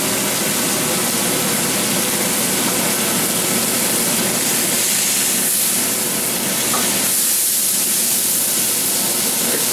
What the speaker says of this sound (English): You can see how that nice color forms from that sear off of the flat griddle.